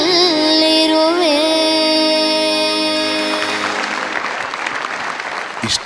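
A singer's final held note at a stage singing show fades out, and loud audience applause takes over. The clapping builds into a dense, sustained ovation that continues to the end.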